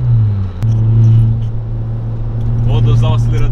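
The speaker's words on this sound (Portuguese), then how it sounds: "Vou dosar o acelerador aqui, ó." A turbocharged Volkswagen Jetta adapted for a tetraplegic driver idles and revs on a night drive, a loud steady low engine drone from inside the cabin with a brief dip, and a voice speaking briefly near the end.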